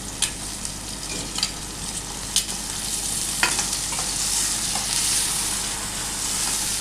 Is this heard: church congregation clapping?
no